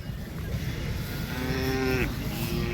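A bull lows with a long, drawn-out moo at the Peth Vadgaon cattle market, set against a dense, loud background of crowd noise and bustle.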